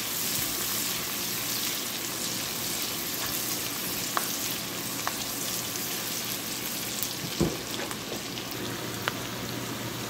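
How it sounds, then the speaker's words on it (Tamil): Onions sautéing in oil left from frying anchovies for nasi lemak, a steady close sizzle and crackle throughout with a few sharp stirring clicks. "அதே நெத்திலி பொறிச்ச எண்ணெயிலே நீங்கள் வெங்காயத்தை போட்டு வதக்கணும்"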